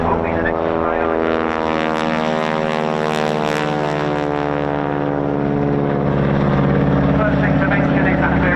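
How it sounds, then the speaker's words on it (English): A P-51D Mustang climbs out at the RAF Cosford Air Show, and its piston engine makes a loud, steady, throbbing drone that swells slightly toward the end. An announcer talks over it. "This is the P-51D Mustang."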